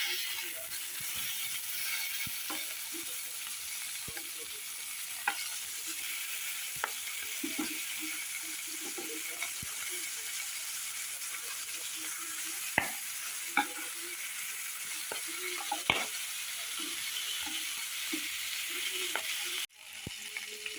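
Magur fish frying in a pan with a steady, continuous sizzle, punctuated by occasional sharp clicks and scrapes as the pieces are turned over; no talking.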